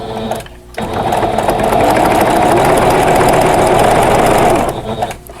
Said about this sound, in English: So we're going to just sew all the way around, 1/4 inch in,